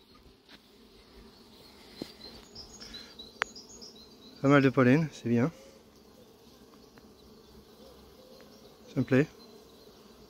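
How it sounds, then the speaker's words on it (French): Honeybees buzzing around a beehive in a French apiary, a soft close hum of many wings throughout, while someone speaks French in short bursts over it. "J'hésite à retirer le bloc du bas quand il y a autant d'abeilles qui volent comme ça."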